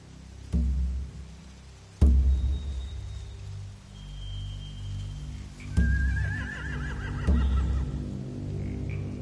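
Horses neighing in The Walking Dead video game, several sharp whinnies and snorts spread through a quiet stretch, each starting with a thud-like onset over a low ambient hum.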